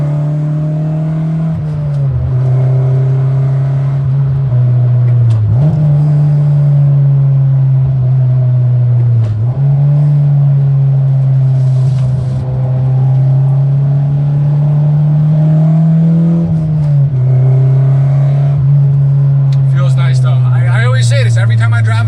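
Car engine held at full throttle, a loud steady high-revving drone with a few brief dips and pitch shifts, heard from close by.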